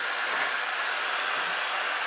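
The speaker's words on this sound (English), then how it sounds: "The vacuum is diligently working over there." An Amarey A900 robotic vacuum cleaner runs with a steady, loud, unbroken whirring hiss, its motor and brushes humming evenly without pauses.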